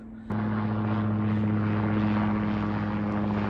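A helicopter drones steadily overhead, its engine and rotor hum kicking in abruptly after a brief quieter moment and holding at a constant, fairly loud level.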